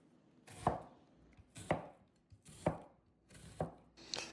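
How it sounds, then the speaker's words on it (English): A knife cutting an onion into half moons on a board: four evenly spaced, crisp chops about a second apart, close and fairly quiet, with a fifth starting at the end. "Now I'm going to cut this onion into half moons"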